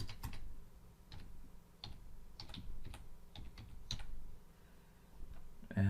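Quick, light keystrokes on a computer keyboard, a run of close, irregular taps with short pauses, heard alone in a quiet room.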